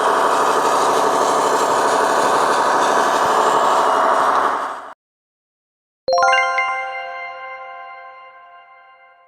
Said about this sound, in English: A motor grader, also known as a road grader or simply a grader